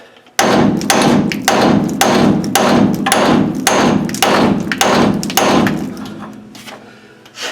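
Hammer blows pound on the king pin of a 1955 Buick, about nine heavy, evenly spaced metallic thuds close up, each ringing briefly before the next, then stopping.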